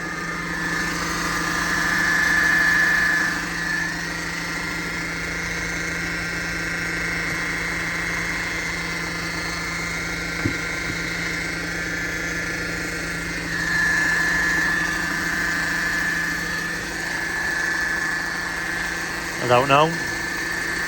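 A steady engine idle hums and whirs continuously, with a persistent high whine on top; a person briefly speaks near the end.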